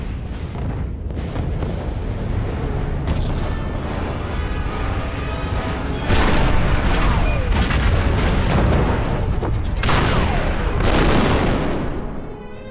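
Blaster fire and explosive booms from the Star Wars Revenge of the Sith PS2 video game, a dense continuous barrage with louder blasts around the middle and near the end, with faint game dialogue underneath.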